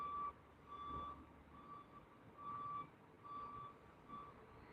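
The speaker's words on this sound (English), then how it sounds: "They got the buzzing, beeping going on" Faint, regularly spaced reversing beeps from a vehicle, repeating evenly over a low rumbling background.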